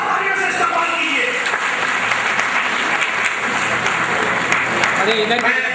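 Applause from an audience in a hall at a Mansoori community program, a steady dense wash of clapping lasting the whole stretch, with voices talking over it.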